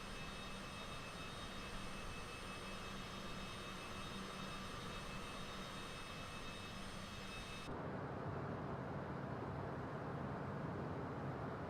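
Aircraft engine idling in Microsoft Flight Simulator 2024, a steady broadband drone with tonal whine that shifts to a duller, lower rumble partway through, continuous and fairly loud with no talk.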